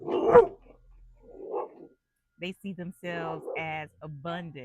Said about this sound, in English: Excuse that's my dog.